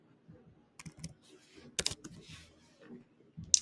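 A few scattered keyboard clicks while typing a search into a Canva design template, close and soft, sitting among a person's speech.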